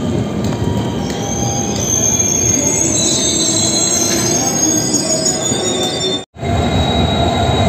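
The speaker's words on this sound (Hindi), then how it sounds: "बरेली जंक्शन ये है उस साइड प्लेटफॉर्म नंबर 1 और हमारी ट्रेन लगी है प्लेटफॉर्म नंबर 2" A passenger train at Bareilly Junction rolls along with a loud, continuous rumble and high, drawn-out wheel squeals, heard close up from on board, with one brief dropout near the end.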